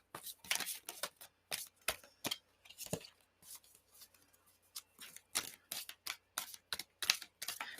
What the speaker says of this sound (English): I apparently cannot shuffle.